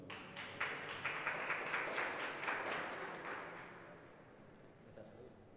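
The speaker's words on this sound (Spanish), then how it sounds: "Fuerte aplauso." An audience at a Puerto Rico diabetes recognition event breaks into steady applause that starts strongly and gradually tapers off, with a few scattered claps lingering at the end.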